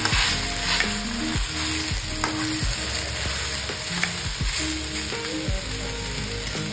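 Onions and tomatoes frying in a pan until golden brown for a dhaba-style sev bhaji masala: a steady, continuous sizzle with occasional stirring scrapes, carried under tonal background music throughout.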